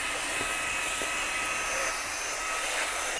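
A small handheld Xiaomi Mi Vacuum Mini cordless vacuum cleaner works on a Porsche's interior console, giving off a continuous, close, high-pitched motor whine and hiss, steady throughout with no speech.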